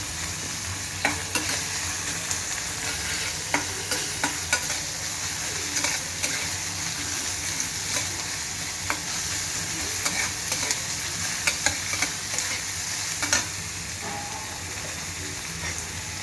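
Sliced onion sautés in a pan with a steady close sizzle and hiss, broken by occasional light clinks and scrapes of stirring.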